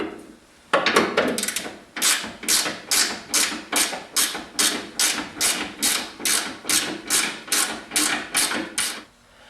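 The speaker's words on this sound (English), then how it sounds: "let's grab our 3/4 inch box end wrench and our 3/4 inch socket, take the one off the top" A 3/4 inch socket and wrench work the top nut off a rear shock absorber, producing a close, loud run of about sixteen evenly spaced ratcheting strokes in a steady rhythm.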